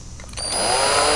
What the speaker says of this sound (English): drill some material out of that so we can get the brass rod in there.